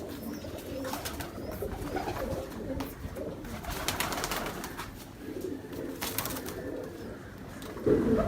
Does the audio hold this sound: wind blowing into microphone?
no